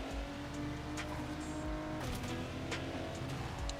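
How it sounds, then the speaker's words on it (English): A race car in a racing video game strikes the wall: a sustained, droning engine note with shifting pitch, broken midway by a sharp broadband knock as the engine tone drops, followed by more engine noise. "That's the wall hit"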